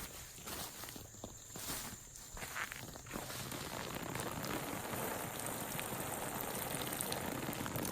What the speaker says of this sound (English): We're gonna water them pretty good.